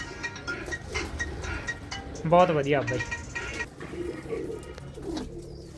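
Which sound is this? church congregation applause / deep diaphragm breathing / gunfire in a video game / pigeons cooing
pigeons cooing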